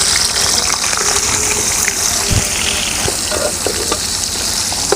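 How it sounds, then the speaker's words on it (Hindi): Chopped onions frying in hot ghee give a steady, close sizzle with bubbling, watery crackle throughout, loud and uninterrupted, with no talking. "गरम घी में आप लोगों ने प्याज डाल लेना है और इसको हम ब्राउन कर देंगे"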